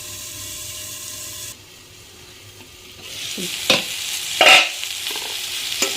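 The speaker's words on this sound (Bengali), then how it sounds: "একটু ঢেকে ঢেকে ভাজা করবো।" Spices fry under a lid in a pan, a steady sizzle that drops briefly and then swells again, with a few clattering knocks and scrapes near the end.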